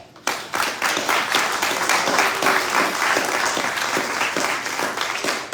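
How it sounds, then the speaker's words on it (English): A graduation ceremony crowd bursts into applause after a brief quiet start, a loud, dense and sustained clapping that carries steadily to the end. "I want a round of applause for all y'all"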